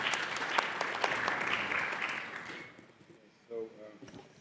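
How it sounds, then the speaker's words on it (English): Audience applause at a doctoral education talk, steady clapping for about two and a half seconds that thins and fades out, followed by a brief voice. "Give him a big round of applause, guys."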